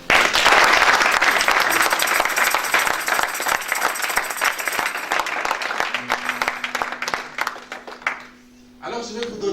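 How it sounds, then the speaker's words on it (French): A church congregation applauding loudly and steadily during a French-language sermon, a sustained wash of clapping that fades near the end before a voice resumes. "Est-ce que tu peux encore applaudir?"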